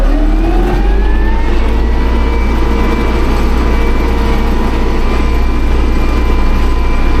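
A farm tractor engine in raised fourth gear drones loudly and steadily for several seconds, a deep constant rumble overlaid by a rising, sustained mechanical whine, close to the listener with no speech.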